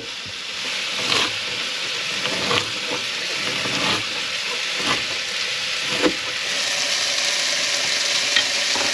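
Garlic frying in olive oil gives a steady close sizzle and hiss, broken by occasional clicks and scrapes of stirring in the pan.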